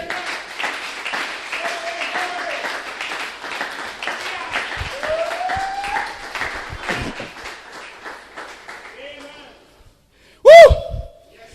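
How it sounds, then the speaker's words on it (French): A congregation claps and acclaims the Lord at an Easter worship service, with sustained applause under loud excited voices that fades out before one sharp, loud shout near the end. "On acclame pour le Seigneur."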